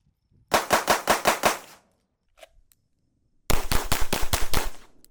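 Staccato XC compensated pistol fired on a range in two rapid strings of about six loud, sharp shots each, separated by a pause with a faint clink.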